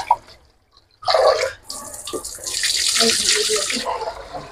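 Rice grains being washed by hand in water, a tap-running splash and sloshing after a quiet start, steady and close, with faint talk in the background, while cooking bhuna khichuri.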